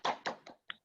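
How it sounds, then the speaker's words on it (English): Four soft hand claps in quick, even succession, quiet and close, followed by silence. "So let's clap hand again to wave makers"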